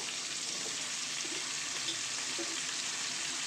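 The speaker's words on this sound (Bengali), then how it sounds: "সবজিগুলো দিয়ে ভালো করে নাড়াচাড়া করে নরম করে নেব সবজিগুলোকে" Raw vegetables are stirred and fried in a pan with oil for a fish head and Malabar spinach dish, giving a steady even sizzle with faint scraping and small clicks throughout.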